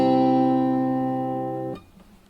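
Acoustic guitar playing the revised measure 7 of a piece, a single sustained ringing chord with rich harmonics that holds, then is damped abruptly near the end, played alone and close.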